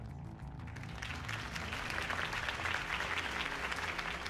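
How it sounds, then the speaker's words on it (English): Crowd applause at a political campaign rally in Batman: The Telltale Series, a steady, full wash of clapping over a low background hum, continuous throughout. "If only Mr. Wayne, my campaign's largest backer, could have heard that applause"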